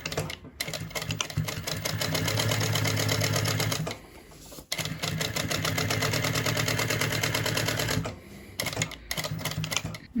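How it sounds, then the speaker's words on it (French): A sewing machine runs long topstitching on bag lining, its rapid mechanical chatter continuing in two long bursts with a brief pause between and short stops at the start and end. "je vais faire une ligne de couture à 3 mm du bord"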